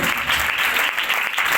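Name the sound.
congregation applause during sermon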